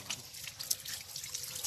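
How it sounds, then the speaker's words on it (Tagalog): Water runs from a tap on a potable water system built for a community in Alamada, North Cotabato, a close, splashy trickle with small drips and gurgles. "Itong tubig galing dun sa source ng tubig natin."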